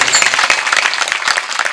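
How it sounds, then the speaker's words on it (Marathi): Audience clapping hard after a kirtan, a dense burst of many hands applauding close and loud throughout. "या पोरासाठी एकदा आपल्या कडकडून टाळ्या वाजवा"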